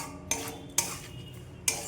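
Chutney being stirred in a pan, with three sharp, separate clinks of a utensil against the pan over a soft, low background.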